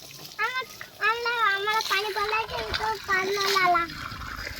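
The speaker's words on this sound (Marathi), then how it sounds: "झाडाला भरतो का पाणी?" A hose sprays water onto a tree, a soft splashing and trickling under the near, frequent chatter of children talking over it.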